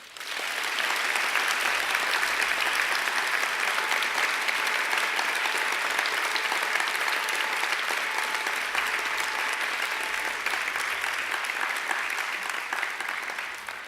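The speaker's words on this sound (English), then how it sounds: "I think they deserve a great round of applause too." Audience at a university graduation ceremony in an outdoor courtyard, giving sustained loud applause from many hands that runs steadily for the whole stretch and tapers slightly at the end.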